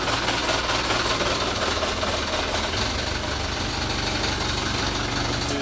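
Seaward 23 Reef Runner boat engine idling in gear: a steady, close, moderately loud mechanical rumble with a dense broadband wash and faint vibration, unchanging and uninterrupted for the whole stretch.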